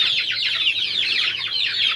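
Several Cochin chickens clucking steadily and close by, a busy, continuous chatter of soft calls with no other sounds.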